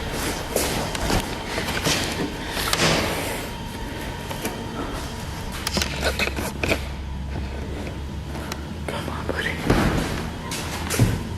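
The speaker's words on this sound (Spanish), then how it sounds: "Una puerta que se abre y se cierra sola en un lugar así no es normal" In an empty room of an eerie building, a door swings open and shut on its own. Creaks, knocks and a few slams stand out over a busy, noisy background.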